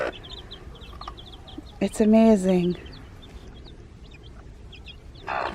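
Baby chicks growing their first feathers cheep in short, thin, scattered peeps, faint and close, while a person speaks briefly over them.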